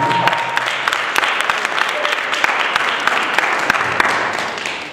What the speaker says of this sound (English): Another round of applause for Azriel.